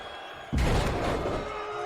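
A wrestler body slams an opponent onto the ring mat, a single heavy thud that cuts in sharply and is followed by a rumbling crowd roar.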